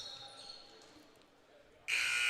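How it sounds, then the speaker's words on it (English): A loud, sustained electronic buzzer sounds at halftime of a basketball game, cutting in abruptly after quieter gym ambience and holding steady to the end. "So buzzer sounds."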